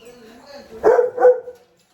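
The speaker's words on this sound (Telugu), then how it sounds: "కుక్క అరుస్తూ ఉంది" A dog barks twice in quick succession near a home where a Sankranti Bhogi bonfire burns outside, the two short barks standing out over a faint background hum.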